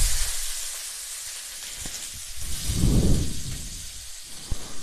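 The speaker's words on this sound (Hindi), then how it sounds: "इसमें हम 5 फोरन डालूंगी और प्याज डालूंगी।" Panch phoron spices and onion sizzling in leftover hot oil in a pan, a steady hiss with a brief louder surge of frying midway.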